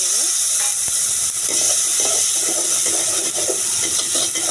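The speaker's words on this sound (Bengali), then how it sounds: "এবারে মশলা বাটি ধোয়া পানি দিয়ে দেবো।" Water used to rinse the spice-grinding bowl poured into a hot silver pot of fried onions, ginger-garlic paste, cumin, turmeric and bay leaf, giving a steady loud sizzle and bubbling hiss throughout.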